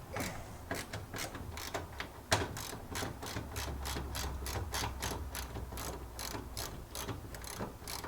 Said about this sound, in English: Remove the bolt from the front leg.